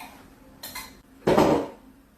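Onion is dropped into a pot of salmon with a short clink and then a louder scraping, tumbling clatter lasting about half a second, heard up close with no talk.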